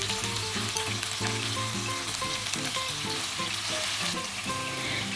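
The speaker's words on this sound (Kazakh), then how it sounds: "Міне осы алтын түсті болып қуырылғанша қуырып аламын." Breaded chicken legs fry in hot oil with a loud, dense, continuous sizzle and bubbling, while a faint tonal hum runs underneath and no one speaks.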